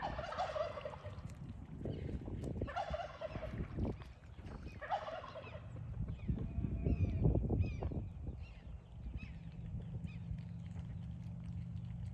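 Royal Palm turkeys gobble in a flock, with several loud rattling gobble calls in the first half giving way to softer clucks and low background noise.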